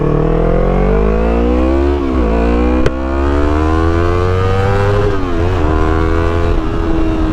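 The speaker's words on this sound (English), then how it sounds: "Hit the rev limiter on that one." A Yamaha R3 motorcycle engine winds up loud and close, pitch rising steadily, with brief stutters as it hits the rev limiter before climbing again.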